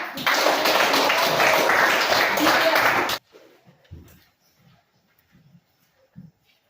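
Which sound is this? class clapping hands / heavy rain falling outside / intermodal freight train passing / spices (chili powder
class clapping hands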